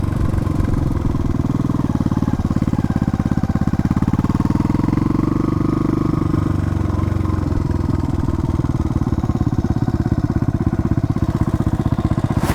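Yamaha bobber motorcycle engine running steadily and loudly nearby, a continuous rapid thumping idle with a slight rise and fall in the middle.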